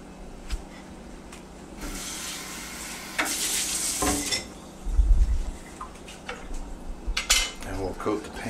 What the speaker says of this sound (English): I'm going ahead and bringing in the egg.